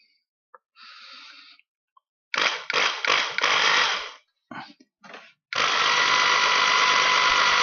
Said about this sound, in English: And we'll drill those holes completely through.